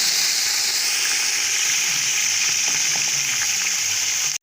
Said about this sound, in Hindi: अब हम इसमें गोश्त डाल देंगे।